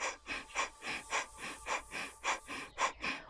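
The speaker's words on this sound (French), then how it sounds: "Bouche close, vous allez inspirer et expirer sur un rythme soutenu en contrôlant la sangle abdominale." Rapid, rhythmic Ujjayi breathing with the mouth closed, air rubbing in the throat: about eleven quick, even breaths in a row, close and soft, with no talking.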